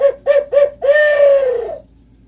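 A turkey call imitates a tom turkey sounding off, with three quick yelps leading into a long rolling gobble-like note, loud and close and heard alone.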